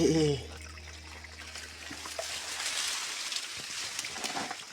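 Water trickling from a natural spring source on a hillside, a soft continuous broadband hiss and dribble that stays steady and fairly close, following a brief low voice at the very start.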